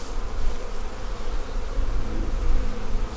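Honey bees moved into a bee barn produce a dense, continuous buzzing close by, with a wavering drone and no voices.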